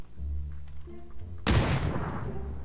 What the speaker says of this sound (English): I'm gonna throw a nade in there.